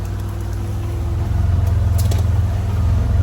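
Vehicle driving through a pasture, a steady low engine rumble close by, rising slightly partway through, with no talk.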